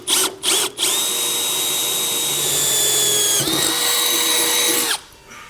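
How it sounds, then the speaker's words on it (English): Power drill boring holes for a low profile LED combination tail light on a 2021 Keystone trailer, a steady high whine running about four seconds after two short trigger bursts, close and loud, with pitch dipping slightly midway. "we can go ahead and take our drill."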